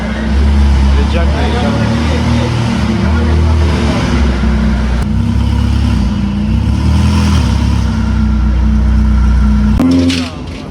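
Supercar engine loudly revving up close during a day out in Malaysia, a heavy low rumble held steady for about ten seconds before cutting off near the end.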